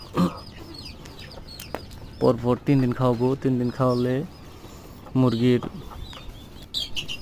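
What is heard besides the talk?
chicks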